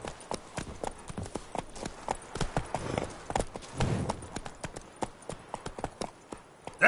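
The horse Roach gallops through The Witcher 3, its hooves thudding in a quick, steady rhythm of clops close by, with a brief snort or whinny in between.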